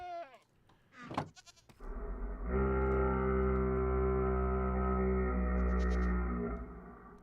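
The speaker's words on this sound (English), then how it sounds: "So let's leave the goats behind because they're pretty useless." Goats bleating in a Minecraft-style video game, a couple of short nasal bleats followed by a long, loud, buzzing sustained bleat that dominates before cutting off.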